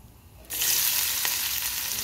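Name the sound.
crushed garlic frying in hot oil in a wok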